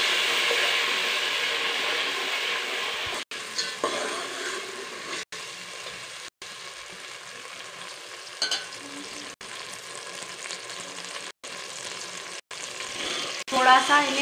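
Tomato puree frying in a pan for a halwai-style potato curry, a continuous loud sizzle with stirring scrapes, several abrupt cuts and a few clinks near the end.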